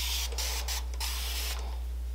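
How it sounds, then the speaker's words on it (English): Spray bottle misting water onto a synthetic wig, several quick hissing bursts in a row, close and fairly loud over a steady low hum. "I'm going to spray mine with a little water."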